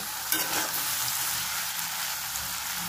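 Potato pieces sizzle steadily in hot oil in a pan, a close, even frying hiss with occasional soft stirring scrapes near the start, no voices, cooked at home for a potato and lote fish curry.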